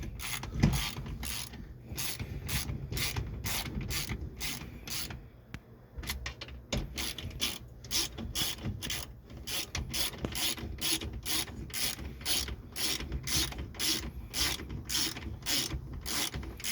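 A ratchet socket wrench turning bolts while rotary boat steering is replaced on a 1991 Alumaweld Formula vee. It gives a steady, rapid series of close clicking ratchet strokes, with a short pause partway through.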